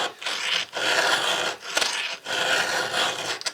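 A file rasps across a saw chain tooth in repeated steady strokes, each a loud, close scraping pass separated by short gaps.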